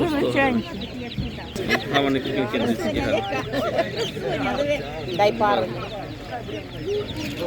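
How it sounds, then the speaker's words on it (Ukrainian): Chicks peep at a village animal market, their chirps mixed into a busy scene where several people talk and bargain nearby throughout. "Дуже гарний курчата."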